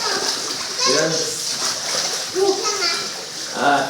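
Children splash and play in a small outdoor pool on a hot day, the water sloshing in bursts while kids' voices chatter and call out over it, close by and fairly loud.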